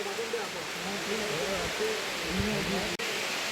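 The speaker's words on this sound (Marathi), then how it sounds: "आणि हा देवकुंड धबधबा." Devkund waterfall in winter pours out a constant broadband roar, with a person talking over the rushing water throughout.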